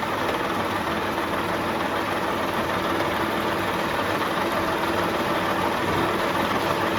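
A drilling machine runs with a steady, unbroken mechanical hum and whir in a workshop during a drilling lesson, holding an even level throughout with no voices.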